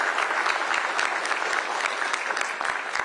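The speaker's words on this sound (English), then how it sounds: "let us give you a round of applause" Audience applause at a Tuscaloosa County gathering, a steady, dense clapping from a crowd that fills the clip at even loudness with no talk over it.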